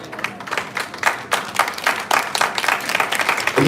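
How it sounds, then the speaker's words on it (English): A conference audience at a Token 2049 side event in Singapore gives a lively round of applause. Sharp individual claps stand out clearly within the fairly loud, steady clapping of the nearby crowd. "please give them a huge round of applause."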